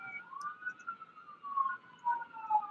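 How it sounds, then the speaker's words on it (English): Faint emergency sirens wailing outside, rising and falling in pitch as they pass at a distance, heard alone without talk. "I'm going to pause while the sirens are going"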